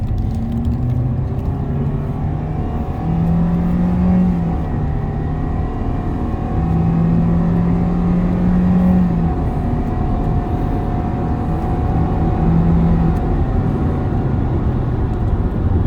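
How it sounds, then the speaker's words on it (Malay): Toyota Veloz engine revving under hard acceleration, a steady loud droning rumble with rising and falling tonal pitch throughout, alone without talk. "So korang dengar ngauman kereta."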